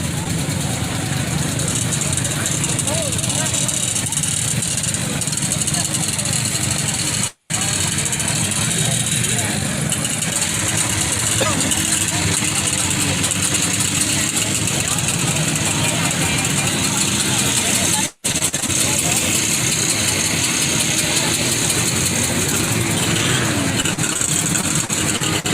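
A 1970 Play Cat vintage snowmobile at a Washington Snow Flyers vintage ride idles steadily and loudly nearby, a continuous buzzy engine drone with two brief dropouts, while people talk over it.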